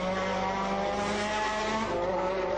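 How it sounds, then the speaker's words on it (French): Formula One car driven by Andrea De Cesaris sliding sideways onto the grass in a major crash, a steady loud engine roar with a high droning tone and broad rushing noise throughout. "De Cesaris sideways, De Cesaris on the grass, he's going over. Oh, De Cesaris, a major accident."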